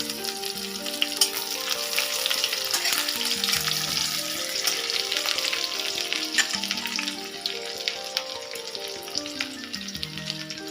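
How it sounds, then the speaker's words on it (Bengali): A small amount of onion frying in oil in a pan, a dense, even, close sizzle with faint spatters and light stirring, steady throughout with no speech. "এবার আমি পেঁয়াজটা দিয়ে দিলাম, খুব সামান্য একটু পেঁয়াজ"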